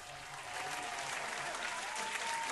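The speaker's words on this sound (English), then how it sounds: "Give Mama a round of applause." A studio audience on a sports talk show gives a round of applause. The clapping is steady and continuous, swelling slightly after the start, with faint crowd murmur in the background.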